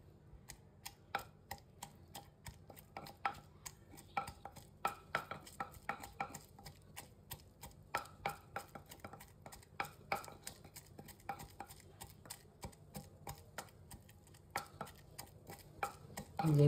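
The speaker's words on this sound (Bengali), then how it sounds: "এই যে এখন আমি ভর্তাটা এটার ভিতরে সেচে বানাবো।" Pumpkin peel bhorta is mashed inside a saucepan with a steady series of close, sharp taps and scrapes against the pan, coming in an even rhythm for the whole stretch.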